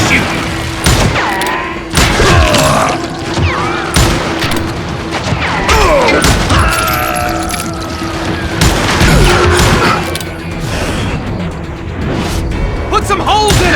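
Gunfire in the Western shooter game Call of Juarez: Gunslinger, with repeated sharp shots and thuds spread through a dense, loud battle mix, while voices shout over the action.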